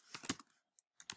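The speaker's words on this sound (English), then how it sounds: "And I am typing some more random text." Keys clatter on a computer keyboard while text is typed into a markdown previewer, a quick burst of clicks, a pause with one isolated tap, then another burst, close and fairly quiet.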